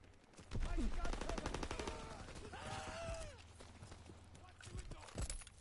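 Rapid bursts of STG assault rifle fire in Call of Duty WW2, sharp repeated shots close by, mixed with other battle noise and a player talking over it.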